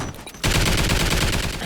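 Video-game turret opening fire after a brief quiet moment, then rattling off a loud, dense, continuous stream of rapid shots that lasts to the end.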